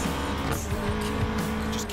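A car in the racing game Need for Speed Payback drifts through a corner with tires squealing under a steady engine roar. The sound is continuous and close for about two seconds.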